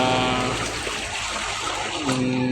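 Water pours into a deep well clogged with sand, a steady close rushing and splashing that continues without a break for the whole stretch.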